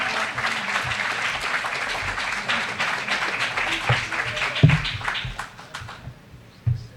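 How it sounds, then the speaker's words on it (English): A mosque congregation claps in welcome for an incoming student minister, dense steady applause that swells and then thins out toward the end, with a few sharper claps standing out near the close. "Let's bring him on with a loving round of applause."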